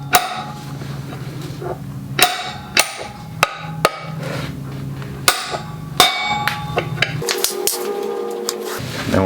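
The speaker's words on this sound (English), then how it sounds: "Get my hammer and tap this on here" A hammer taps a bearing driver into a Honda CB500F motorcycle wheel bearing in a workshop, giving about nine sharp metallic strikes at irregular intervals with ringing tails and a low hum beneath.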